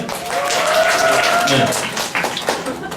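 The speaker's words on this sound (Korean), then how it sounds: "박수 한 번 해주세요." Audience applause at a showcase for the musical 'The Man in the Hall', a steady wash of clapping filling the room while a voice talks over it.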